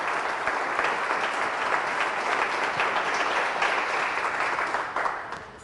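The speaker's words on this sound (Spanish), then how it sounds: "Fuertes aplausos a nuestro Señor y Salvador Jesucristo" Sustained applause from a church congregation, dense and steady at close range, easing slightly near the end.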